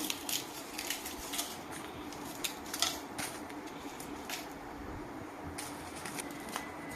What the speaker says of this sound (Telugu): ఎండుమిరపకాయలండి తుంచి వేస్తున్నానండి